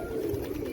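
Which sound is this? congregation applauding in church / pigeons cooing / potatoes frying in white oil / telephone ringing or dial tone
pigeons cooing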